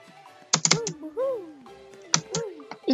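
Two short bursts of clattering computer keyboard keys come during a Roblox game, with a voice exclaiming loudly in sliding tones between and over the typing.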